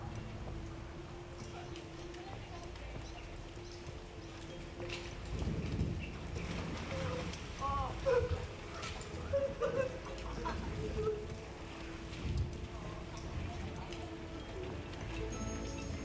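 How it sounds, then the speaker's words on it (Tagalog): Rain keeps falling steadily around a reality-show house and pool, a soft continuous patter that holds at an even level, with a few louder bursts and scattered birdsong partway through. "Nang humina ang ulan"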